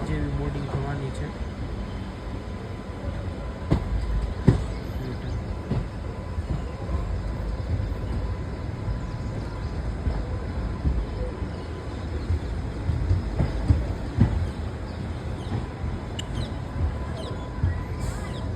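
A train pulls out of Upleta railway station with a steady low rumble and scattered clanks throughout, moderately loud and continuous, with voices now and then.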